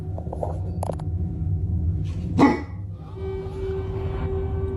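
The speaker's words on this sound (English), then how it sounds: "And now the big dog's barking." A big dog barks at a corner of the house, a single sharp, fairly loud bark standing out against steady indoor background noise.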